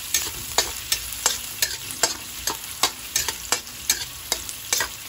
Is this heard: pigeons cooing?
no